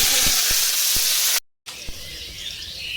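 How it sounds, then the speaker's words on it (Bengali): Potatoes sizzle in hot oil with a steady, loud hiss of frying that runs throughout. A short gap of silence breaks it in the middle, and a few soft knocks come through. "এখানে যে তেল গরম হয়ে গেছে এবার আলুটাকে দিয়ে দেবো"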